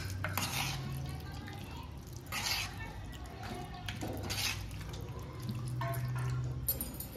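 A spoon stirring a biryani marinade of coriander, mint and oil in a bowl, giving soft wet clicks and scraping strokes, close and quiet, with no talking.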